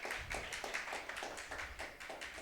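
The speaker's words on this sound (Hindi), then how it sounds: "सो एक जोरदार तालियों से उनका स्वागत किया जाए" Audience at a church gathering claps in rhythmic unison to welcome a speaker, steady quick claps heard faintly at a distance.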